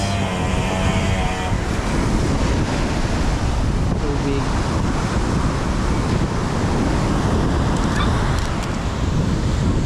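Steady roar of waves breaking on a beach in Amlan, Negros Oriental, Philippines, loud and continuous, mixed with heavy wind buffeting the microphone.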